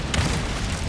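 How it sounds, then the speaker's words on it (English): A cannon booms in Resident Evil 4, a single heavy low blast with a short burst near the start, followed by a rumbling tail, with no talk over it. "Cannon. It works. That cannon."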